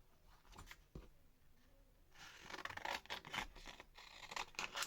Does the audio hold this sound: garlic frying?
no